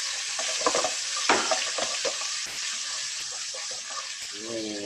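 Ground garlic, shallot and candlenut spice paste sautés in a pan with a steady close hiss, under irregular scraping stirs and a few soft knocks of the utensil.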